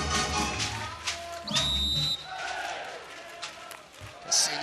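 A referee's whistle blows once, clear and shrill, at a women's gold-medal beach volleyball match at the Olsztyn Grand Slam. Crowd noise and a commentator's voice run underneath.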